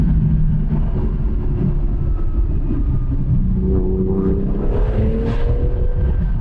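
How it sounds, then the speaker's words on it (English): A 1996 Porsche 911 Turbo driven under hard throttle in second gear, its engine droning and climbing steadily as it pulls, heard from inside the car with no talking. "hard throttle in second, tons of power"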